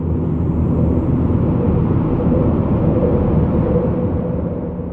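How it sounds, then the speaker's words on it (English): A dense, steady ambient drone texture from the UVI Drone FX sound design plugin, a dark, low rumbling wash that holds at an even, loud level throughout. "an amazing texture and ambience sound design tool called Drone Effects by UVI"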